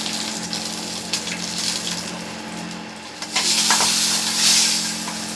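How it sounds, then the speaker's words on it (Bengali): Bori lentil dumplings frying in hot oil in a wok-style pan, a continuous hissing sizzle that swells louder midway, close up with no talking. "বড়িটাকেও ভেজে নেব।"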